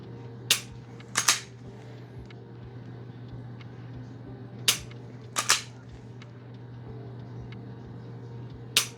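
Dry-fire trigger presses on a pistol fitted with a Mantis TORX laser trainer, six sharp clicks in irregular pairs over a quiet room hum, close and crisp.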